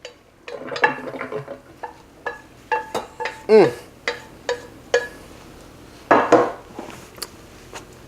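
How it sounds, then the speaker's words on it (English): Cooked macaroni rattles and clanks in a metal colander, shaken dry in a series of short, sharp bursts with brief pauses between, close by. "We want to drain all of the water out of here so that the pasta is nice and dry"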